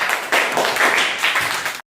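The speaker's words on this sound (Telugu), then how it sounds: "రాహుల్కి క్లాప్స్ కొట్టండి." A primary school class of third to fifth graders claps for a classmate, a brisk, slightly pulsing patter of small hands that stops abruptly.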